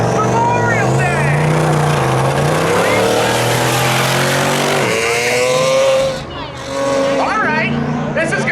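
A Corvette and an Audi race at Hudson Speedway, engines roaring loudly and continuously as they rev and pull past, with a brief dip before the roar returns, under a commentator's voice.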